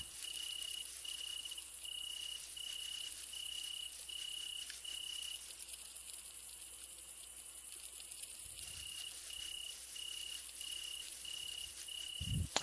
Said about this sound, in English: It's hard to tell with the crickets chirping.